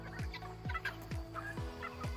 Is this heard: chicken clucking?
yes